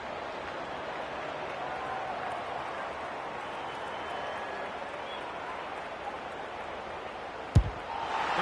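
A continuous roar of a large stadium crowd in an AFL video game, broad and steady throughout, with a single sharp knock near the end.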